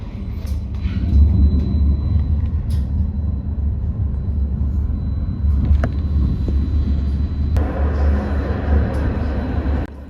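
A Bergen Bybane Line 2 light rail train running, heard from on board as a deep, continuous low rumble with occasional clunks and rattles, steady and close.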